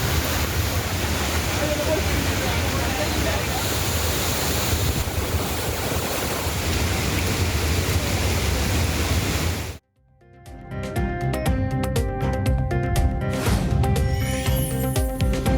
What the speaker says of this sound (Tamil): தென்காசியில் தொடர் கனமழையால் குற்றால அருவிகளில் காட்டாற்று வெள்ளம்